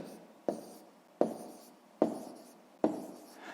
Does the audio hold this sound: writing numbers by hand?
yes